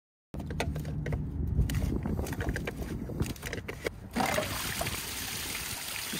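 Water drains from a Pentair pool filter tank in a steady trickling, splashing flow, close and fairly quiet, with a brighter, fuller gush near the end.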